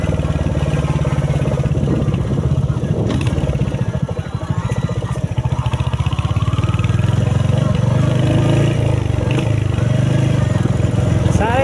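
A motorcycle engine runs steadily and loudly throughout while riding on a road in Pakyong, East Sikkim, a constant low rumble with a voice talking at times.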